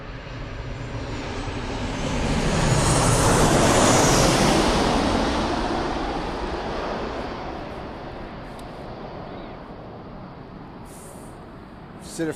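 An Airbus A380 approaching Birmingham Airport, a loud broadband jet roar that swells to a peak a few seconds in and then slowly fades while staying present to the end, no talk.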